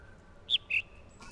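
Two quick, high bird chirps from a sound puzzle in the video game The Witness, in the jungle area, close and clear over faint background ambience.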